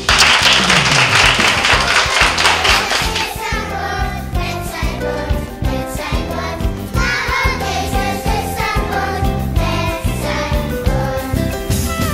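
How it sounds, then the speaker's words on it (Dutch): Applause from an audience at a charity event for a Kids at Risk project in Marowijne, with dense clapping at first that thins into scattered claps and tapping under music. "Applaus voor jullie verder."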